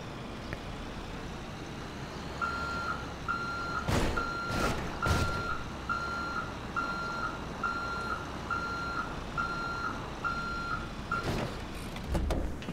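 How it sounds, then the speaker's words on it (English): Steady reversing beeps from a dump truck parked in GTA 5, a regular pulsing alarm over engine rumble, with a few louder bangs and hisses like air brakes. "we're going to go ahead and park up the dump truck right over here"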